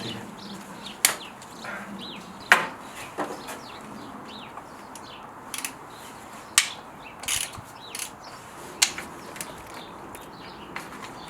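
A ratchet-style hex bit tool undoing engine bolts on a Mk2 Golf 16V KR engine during a gasket change, giving scattered sharp mechanical clicks and short ratcheting bursts, close and fairly quiet, with no talking.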